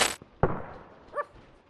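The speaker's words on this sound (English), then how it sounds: "suddenly a gunshot is heard" A gunshot in the horror video game The ER: Patient Typhon, a sharp loud crack followed by a second hard impact and a faint metallic ring, with no talking.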